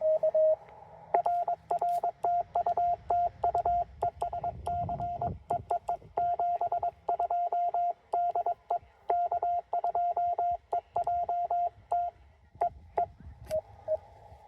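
A steady high radio tone keys on and off in rapid Morse code (CW) dots and dashes on a TR-45L radio at Chenango Valley State Park, with clicks and hiss of static crackling underneath.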